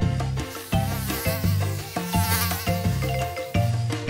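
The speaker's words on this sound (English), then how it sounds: "Mosquito." An animated mosquito buzzes in a children's alphabet vocabulary lesson, a thin wavering drone running continuously beside a bouncy music track.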